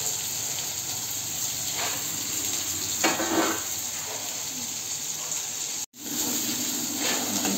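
Yellow potato bhaji cooking in a pan gives a steady, close sizzle and frying hiss with occasional stirring scrapes and one brief dropout.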